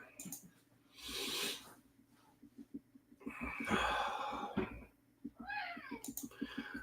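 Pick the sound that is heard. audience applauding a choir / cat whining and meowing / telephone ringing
cat whining and meowing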